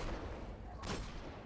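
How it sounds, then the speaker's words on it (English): A single hand cannon shot from the Destiny shooter game lands about midway, a sharp broadband crack over a steady low rumble of game ambience, with nothing else standing out. "sometimes you just need to do some pot shots with a hand cannon"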